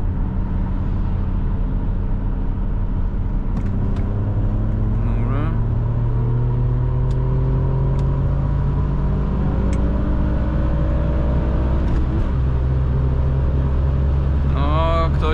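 2006 Alfa Romeo Brera 3.2 JTS Q4 accelerating from 100 to 200 km/h, a loud, sustained in-cabin engine drone whose pitch rises steadily through the gears, with brief dips at shifts and faint speech underneath.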